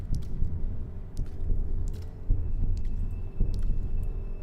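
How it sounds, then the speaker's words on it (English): Low, muffled heartbeat thumping in the horror game Bendy and the Dark Revival, a dull pulse repeating under a dense rumbling ambience with faint higher ticks scattered above it. "I hear heartbeat again."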